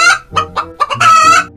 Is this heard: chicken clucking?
yes